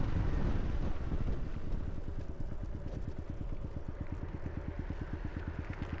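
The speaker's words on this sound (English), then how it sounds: "I'd say the exhaust and the engine are the same sound now" Car engine with a new aftermarket exhaust running on a road, a steady rumbling drone with rapid regular pulsing, heard loud and close with wind noise throughout.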